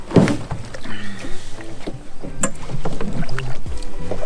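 Someone climbs into a kayak beside the water, with hollow hull thunks, shifting knocks and light splashing close by over a few seconds.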